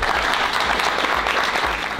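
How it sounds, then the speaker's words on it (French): A brief burst of audience applause at a youth recruitment event, dense close clapping from a crowd held at a steady level throughout. "qu'on peut applaudir"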